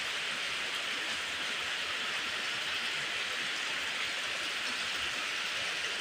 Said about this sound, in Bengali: তো দেখতে পাচ্ছেন বৃষ্টির পানি রাস্তা, বাড়ির চারপাশ আস্তে আস্তে ভরে গেছে।